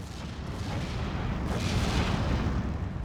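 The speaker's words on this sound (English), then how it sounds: "Getting a bit more success with those mortars." Mortar shells strike in the WWII strategy game Steel Division 2 as a dense, continuous wall of booming, rumbling explosions that overlap with no pause, loud throughout and with no talk.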